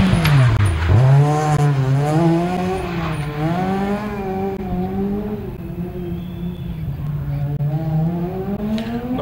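A Ford Fiesta Super 2000 rally car drives a prologue stage, its engine loud and close, revving up and down through quick gear changes with a sharp rising and falling tone.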